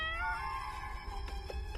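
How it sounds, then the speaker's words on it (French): A cat gives one drawn-out meow that slides down in pitch, fairly close and clear over a quiet background, followed by a couple of faint knocks. "C'est mon chat"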